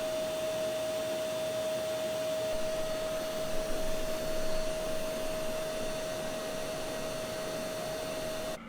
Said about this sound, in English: Behold the nub sander